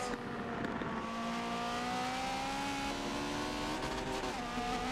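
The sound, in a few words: 1980s race cars racing, from a racing video game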